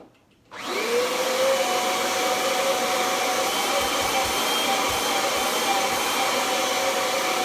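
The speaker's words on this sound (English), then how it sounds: "I'm gonna turn the Kirby on real quick and show you guys the difference when it's in hose mode." Kirby vacuum cleaner switched on in hose mode, its motor spinning up with a rising whine into a loud, steady roar that holds constant throughout, alone and close by.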